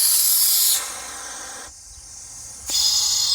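Compressed air hisses into a sandblaster pot as it is pressurized toward 100 psi, a loud steady broadband rush that drops to a quieter hiss midway and then surges back strong near the end.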